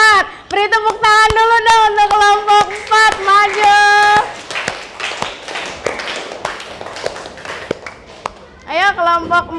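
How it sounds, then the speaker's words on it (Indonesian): Students in a classroom clap their hands in sharp, repeated taps, mostly beneath loud voices that sing or chant in drawn-out tones and overlap the clapping throughout. "Beri tepuk tangan dulu dong untuk kelompok 4."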